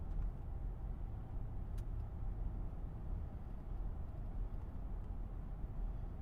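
Mercedes GL 550 twin turbo SUV accelerating at about a third of throttle, a faint, steady low engine hum and road rumble heard from inside, with no voices.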